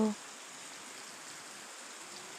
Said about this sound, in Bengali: এরপর বৃষ্টি শুরু হয়েছিল।